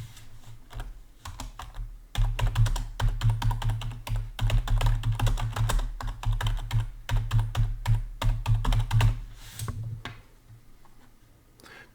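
Steady typing on a computer keyboard, dense rapid key clicks running for most of the stretch at close range, with a quieter lead-in and tail and no talk.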